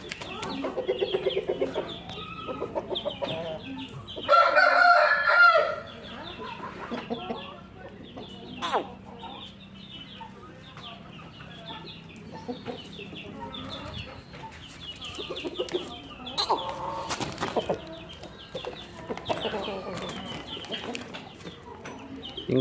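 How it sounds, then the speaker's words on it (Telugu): Rampur breed rooster and hens cluck and call on a farm, with scattered clucks throughout and a louder burst of calling early on, over quiet background noise. "రాంపూర్ పుంజు, రాంపూర్ పెట్ట క్వాలిటీ అయితే చూడండి ఎట్లా ఉంటుంది."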